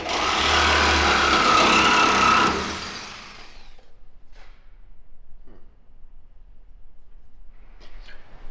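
A Sawzall reciprocating saw cuts into the body of a 1956 Ford F100 truck, a loud buzzing rasp for about three seconds before stopping, followed by quiet shop noise and faint clicks.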